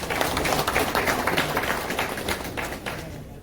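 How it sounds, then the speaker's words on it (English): An audience at an Atlanta strategy session applauds steadily, a dense wash of many hands clapping at moderate volume that fades slightly toward the end, with no voices over it. "let's give him a hand of applause"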